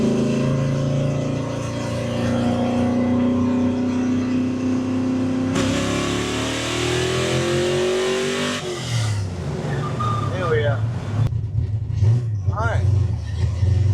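A 1965 Mustang with a 347 stroker engine pulls hard through third gear, its loud rising engine note climbing steadily before a shift, and the revs drop near the end, with people talking over it.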